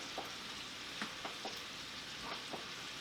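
Bacon and sausage frying in a pot, a continuous soft sizzle with a few faint scraping stirs scattered throughout, moderately close.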